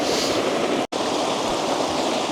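An Icelandic waterfall pours into a slot canyon, a dense, steady roar of rushing water heard alone, broken only by a split-second dropout.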